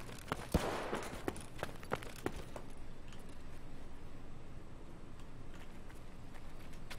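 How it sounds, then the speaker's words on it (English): Scav gunfire in Escape from Tarkov, a handful of sharp distant shots in a quick burst near the start, then fading into quiet ambient background. "Oh, that's a scab shooting."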